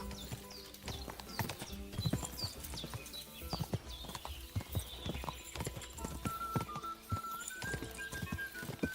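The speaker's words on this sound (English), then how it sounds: "Easy, good horse." A horse's hooves clip-clop steadily at a trot in the video game Kingdom Come: Deliverance 2, with a dense run of sharp, close hoofbeats throughout and a brief whinny-like tone partway through.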